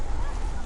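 Short honking goose-like bird call from LEGO DC Super-Villains on PS4, loud and continuous over game background for under a second, with no talk.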